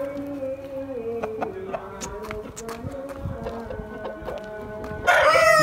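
Aseel roosters on a farm in Mianwali, several birds crowing and clucking in a steady chorus, with a louder, closer burst of sound at the end.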